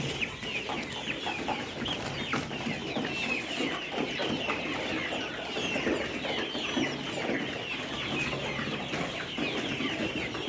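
Layer pullet chickens about 67 days old fill a poultry shed with dense, continuous clucking and chatter from many birds, fairly quiet and steady throughout with no talk.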